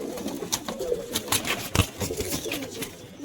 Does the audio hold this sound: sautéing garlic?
no